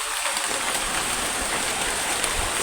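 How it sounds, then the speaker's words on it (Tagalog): Heavy rain pouring down outdoors beside a spring in the Philippines, a steady loud hiss of downpour filling the whole stretch with no talking. "Bumuhos ang ulan."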